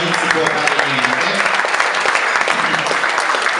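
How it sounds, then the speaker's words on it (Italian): Audience clapping at a car club event in Abruzzo, a dense, steady burst of applause from a crowd, fairly close and continuing throughout. "un applauso lo faccio a loro"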